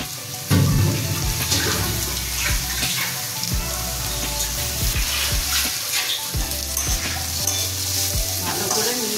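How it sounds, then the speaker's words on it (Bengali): Shredded cabbage is stir-fried with salt for fried masala Maggi noodles, a loud, close sizzle broken by repeated scraping spatula strokes and dull knocks against the pan, with no speech. "নুন দিয়ে ভাজছি।"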